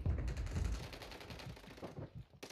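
Sniper gunfire in a multiplayer video game match, a dense run of sharp cracks and rattling shots layered together at moderate loudness with no talk over it.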